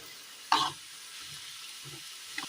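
Rice flour and coconut snack pieces dropped one by one into hot oil, with a faint low bubbling sizzle, a brief splash as a piece goes in, and light clinks.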